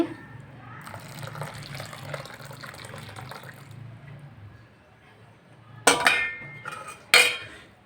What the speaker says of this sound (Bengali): আর এই যে দুধটাও ঢেলে দিচ্ছি